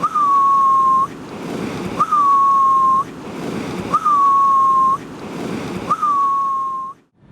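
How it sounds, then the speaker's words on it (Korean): A haenyeo diver's sumbi breath on surfacing: four high, slightly falling whistles, each about a second long and evenly spaced, over steady ocean surf. "해녀들이 이제 물질하고 나오면서 숨을 참고 나오면서 이렇게 밖에 나와가지고 숨을 쉴 때 나오는 소리가 있습니다"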